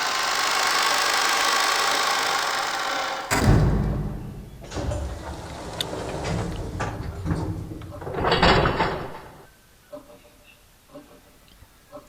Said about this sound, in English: When the door was closed, it automatically made a clunk.